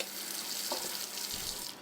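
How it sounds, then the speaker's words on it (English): Water runs from a tap over the top section of a moka pot being rinsed, a steady hissing splash that shifts slightly as the metal piece moves under the stream. "just give the top section a little rinse"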